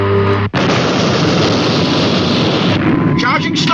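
A weapon firing sound effect from the Supercar television series: after a brief cut, a single sustained explosive blast roars loud and full, then trails off into crackling, fizzing tones.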